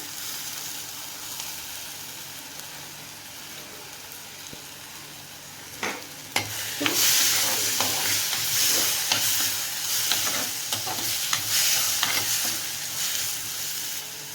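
Tomato pieces sautéing in oily masala in a pan give a steady, close sizzle, with a run of sharper crackles and spatters that flare up midway and keep popping over the hiss.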